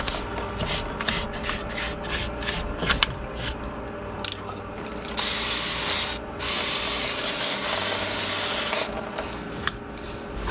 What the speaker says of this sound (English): Spray that down a little bit. It's brake dust, there's dirt.